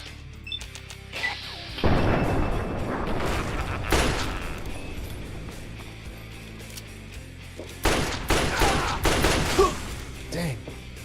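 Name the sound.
gunfire in video game Fallout 3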